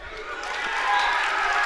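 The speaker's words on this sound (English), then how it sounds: "As the crowd gets excited." A crowd at a college wrestling match between CWRU and Adrian College grows louder as a bout nears the edge of the mat: a rising, broad wash of cheering and shouting.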